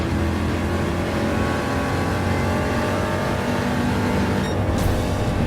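A race car engine driving on ice in Gran Turismo 7, loud and sustained, droning at high revs with small rises and dips throughout and a brief whine near the end.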